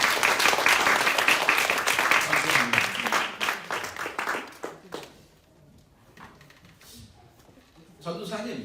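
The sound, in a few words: church congregation applauding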